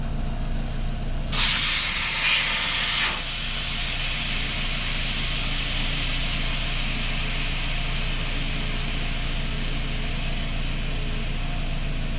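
Air hisses sharply out of a tire valve after the Schrader valve core is pulled on a Kawasaki with 34-inch Megabite tires, a loud burst lasting about two seconds over a steady engine-like drone.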